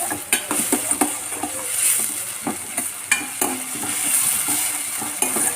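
Onion and tomato sautéing in a pan, a steady close sizzle with repeated scraping stirs of a spoon against the pan and occasional light clinks, no talking.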